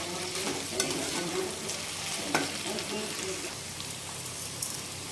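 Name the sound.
okra frying in a pan on medium flame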